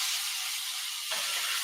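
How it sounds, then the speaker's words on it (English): Chicken sizzles in a hot skillet, a loud, close hissing crackle that continues throughout with a brief surge partway through as more meat hits the pan. "So I am just putting the chicken in a skillet."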